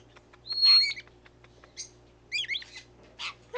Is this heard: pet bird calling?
yes